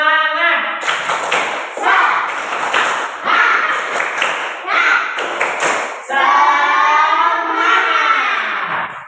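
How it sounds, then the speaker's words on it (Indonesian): A classroom group performs the rhythmic 'tepuk semangat' spirit clap, sharp bursts of hand claps in a patterned beat mixed with chanted voices, ending in a sustained shout together, loud and close. "Tepuk semangat"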